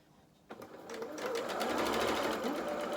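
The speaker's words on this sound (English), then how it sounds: "let me just do another row of stitching and make sure I've not tightened it up too much" A sewing machine stitches a row with standard polyester thread while a doll is being made. It starts after a brief pause and settles into a fast, steady mechanical whir with rapid needle clatter, and a faint voice sits underneath.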